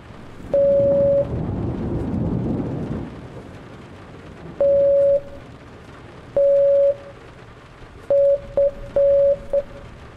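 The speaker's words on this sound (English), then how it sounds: "International Morse Code." International Morse Code tones beep at a steady pitch, first as long dashes spaced seconds apart and then as a quicker run of dots and dashes, over a hissing, crackling background like rain or static.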